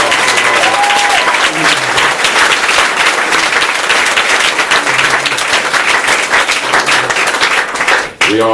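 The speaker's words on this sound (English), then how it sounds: "Let's give her a round of applause for fighting for us." Loud, sustained applause from a large audience at a bookstore talk, steady clapping filling the whole stretch before cutting off abruptly at the end.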